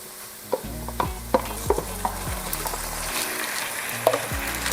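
Stuffing with tomato paste and chipotle peppers sizzles softly in a pan while a utensil scrapes and stirs in sharp, irregular knocks against the pan, with no talking.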